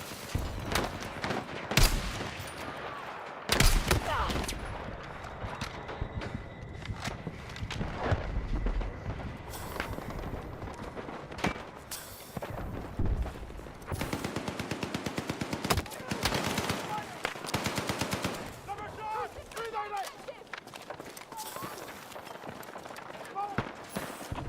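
Rapid light-machine-gun bursts in a Battlefield 6 multiplayer match, sustained chattering volleys mixed with scattered single shots and battle noise, with a player talking over much of it.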